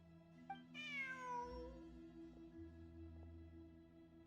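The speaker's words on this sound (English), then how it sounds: "Look, a cat." A cat in Genshin Impact, met while exploring ruins during the Fieldwise Center event, gives one clear, drawn-out meow that rises and then falls, over a steady background of game ambience and music.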